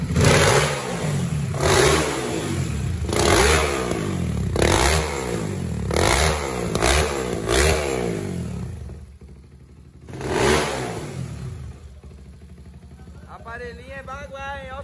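A motorcycle engine revs repeatedly in short bursts, rising and falling, close by and loud, with people talking over it.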